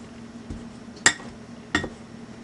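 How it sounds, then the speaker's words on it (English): A metal pastry blender works biscuit dough in a bowl, giving two distinct clinks about half a second apart over a quiet background, with no talking. "I'm going to take my pastry blender and I'm just going to blend it until it gets crumbly"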